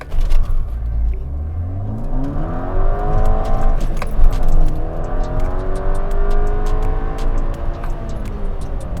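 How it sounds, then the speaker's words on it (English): A VW MK6 GTI with an ARM Motorsports turbo outlet pipe launches hard from a standstill for a 0 to 60 run, its engine rising through the revs with a gear shift, loud and close from inside the car. "Let's see if we can cut another 10th off our 0 to 60."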